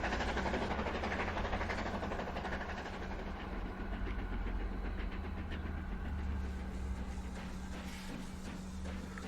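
Steam locomotive accelerating in the game Transport Fever 2, a steady continuous rumble and chuff with broad hiss, moderately loud and unbroken, with no talk over it.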